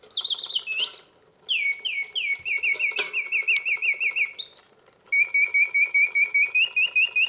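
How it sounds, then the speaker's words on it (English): Vintage Reuge mechanical singing bird cage automaton with bellows, chirping close and clear in warbling phrases and rapid repeated trills, broken by short pauses, with no talking. "The bird, the mechanism, the bellows, the cage, and this bird sings exactly as it should."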